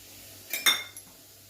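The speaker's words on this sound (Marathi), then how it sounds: "आता आपण याच्यात घालणार आहोत रवा" Semolina (rava) being added to a metal pan for sheera, to be roasted over a low flame: a short burst of metallic clinks and scraping from a utensil against the pan, with a few quieter taps after, otherwise quiet.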